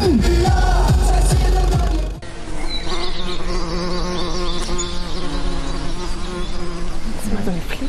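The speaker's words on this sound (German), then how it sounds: "Das ist mal so eine Fliege." A fly buzzes with a loud, steady drone close by that carries on for several seconds after a brief burst of other sound at the start.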